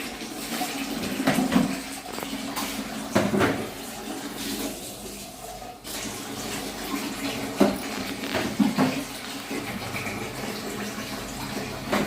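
Water pours and gushes steadily into a toilet during cleaning, a continuous close splashing rush with occasional louder surges over about twelve seconds.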